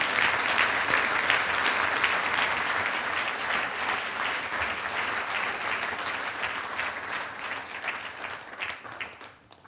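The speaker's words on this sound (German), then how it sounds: "Begrüßen Sie mit uns recht herzlich Herrn Wolfgang Effenberger" An audience at the Bautzen Peace Prize 2019 ceremony applauds to welcome a speaker, sustained dense clapping that stays strong for several seconds before slowly thinning and tapering off at the end.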